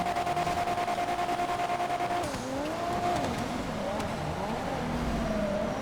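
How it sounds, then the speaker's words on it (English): A drift car's engine revs steadily in the FiveM (GTA V) racing game, a continuous tone shifting pitch as the car slides, with light tire noise and a voice talking over it. "it's a drift car"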